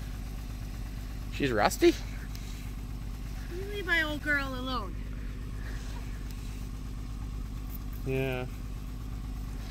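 A 2004 Jeep Liberty Renegade idles with a low, even rumble, its engine prone to random misfires, while people talk over it in short remarks.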